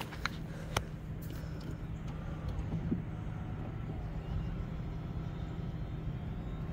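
A convertible car's power top motor runs with a steady low hum and faint rising whine, alongside a few sharp clicks and knocks near the start.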